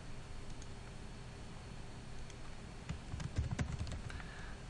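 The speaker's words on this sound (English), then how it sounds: "And I'm just going to type in custom here." Typing on a computer keyboard: a short, faint burst of quick key clicks near the end, over a steady background hiss.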